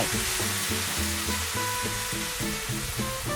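Beaten egg poured into hot oil in a pan for a Thai omelette, giving a steady, loud, close sizzle with a faint recurring pulse under it and no voices.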